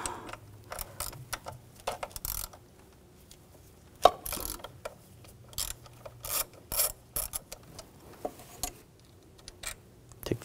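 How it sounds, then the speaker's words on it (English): Ratchet with a 10mm socket backing out bolts from the thermostat housing on a 2006-2010 BMW 550i, close up: scattered bursts of clicking and ratcheting with brief gaps, plus a few sharper knocks of metal parts being handled. "Using a 10mm socket, we're going to take these bolts out."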